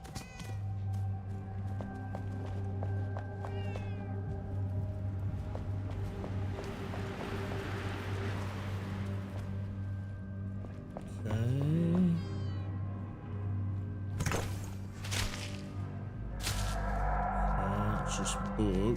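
Cat in the Enshrouded video game meows a few times, one clear meow midway and others faint, over a steady game ambience with watery background noise.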